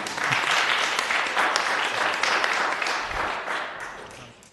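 An audience at a city land use and transportation committee meeting bursts into applause, a dense wash of clapping that holds steady for a few seconds before tapering off.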